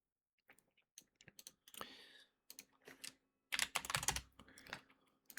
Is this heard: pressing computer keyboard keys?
yes